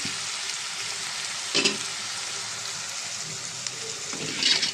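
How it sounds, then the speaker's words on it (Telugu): Onions fry in a pan toward golden brown, giving a continuous close sizzle with a few louder stirring bursts. "కొంచెం గోల్డెన్లో ఫ్రై వచ్చే వరకు మనం ఉల్లిపాయలు బాగా ఫ్రై చేద్దామండి"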